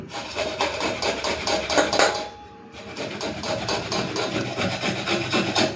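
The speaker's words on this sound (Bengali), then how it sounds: "তো আদাটা ঘষে নিয়েছি" Ginger is rubbed back and forth across a grater in quick, rhythmic rasping strokes, close by, with a short pause midway and no talking.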